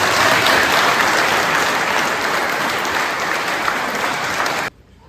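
Dense, loud, sustained applause from an audience at a fire department's 150th anniversary, a continuous wash of clapping that cuts off abruptly near the end.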